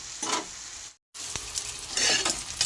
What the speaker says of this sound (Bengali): সবজিগুলোর সঙ্গে মিশিয়ে নেব দেখুন পুরো মিশে গেছে নেড়ে চেড়ে একটু